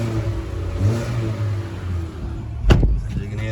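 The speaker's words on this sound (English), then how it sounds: "turn the car and give it a bit of a rev" A Hyundai Kona with about 39,000 km on the clock idles and then takes a short, sharp rev. The engine hum holds steady before a sudden loud burst near the end, heard from close by.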